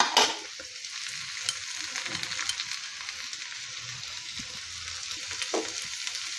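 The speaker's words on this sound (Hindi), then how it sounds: "एमती आमे 5 मिनिट 4-5 मिनिट टिके फ्राई करदबा।" Vegetables with dry masala and salt fry in a pan with a continuous close, bright sizzle and occasional stirring scrapes, no voices.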